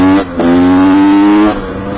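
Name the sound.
cold 1988 125 CR motocross bike engine revving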